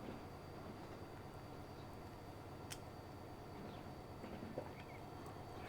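A wood freight train rumbles past in the Transport Fever 2 railway simulation, a steady low mechanical drone with faint clanks and no talking.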